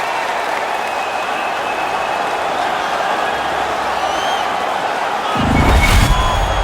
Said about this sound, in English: the crowd back alive here inside the stadium